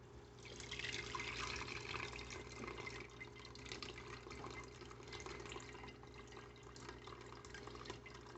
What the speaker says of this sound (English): we are gonna start straining it little by little